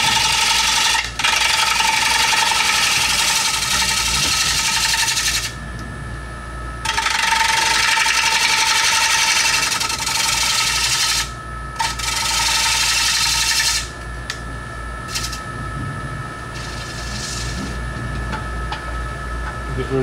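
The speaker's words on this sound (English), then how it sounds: "Series of" Scraper cutting a wooden platter as it spins on a lathe, a series of harsh scraping passes of several seconds each over the steady motor hum, close and loud, with quieter gaps between passes.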